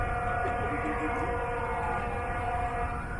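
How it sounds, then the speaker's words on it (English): Sirens wailing steadily as a continuous sustained tone, loud and unbroken throughout, with faint background sound beneath. "You're right about the sirens."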